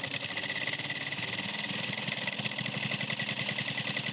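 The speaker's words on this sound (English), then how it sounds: "we're just going to sew all the way down, letting the foot do the work, feeding it through" A sewing machine stitches down a bag strap, running at a steady, even speed with a rapid mechanical chatter and low motor hum throughout, close and fairly loud.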